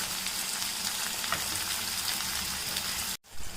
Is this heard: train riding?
no